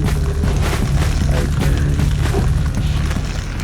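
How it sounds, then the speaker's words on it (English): Cannon fire in the Jak and Daxter video game makes dense, continuous booming rumble with repeated low bursts and crashing impacts, loud and sustained throughout. "Fire cannon."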